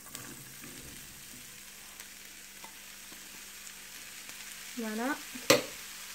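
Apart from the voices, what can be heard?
leeks frying in butter and oil in a pan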